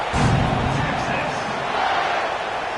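A football stadium crowd at a Tennessee versus Texas game roars loudly and steadily as the ball is kicked off, a dense wash of cheering filling the whole moment.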